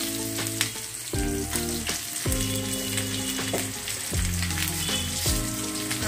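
Chopped onions and chillies fry in a pan for a beef nihari, giving a steady loud sizzle with scraping stirs and clinks throughout, no voices.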